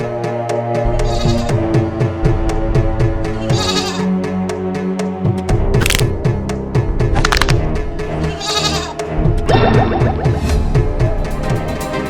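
A goat bleats again and again, loud and close, in repeated wavering calls over steady background music throughout.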